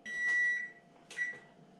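Kitchen oven timer beeping as a meatloaf finishes baking, a steady high electronic tone followed by a second shorter beep, heard close over a low kitchen hum.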